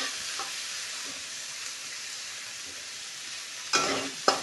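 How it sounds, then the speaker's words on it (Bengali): Onions frying in a pan with chilli and whole garam masala, a steady close sizzle throughout with two louder bursts of stirring scrapes near the end. "পেঁয়াজটাকে ভালোভাবে নেড়ে নেব।"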